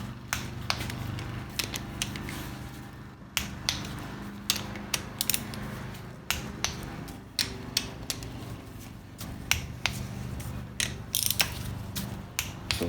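A torque wrench ratchets and clicks repeatedly while transmission bolts are tightened to spec during a 4L60E rebuild, with sharp irregular clicks close up over a steady mechanical hum, no voices.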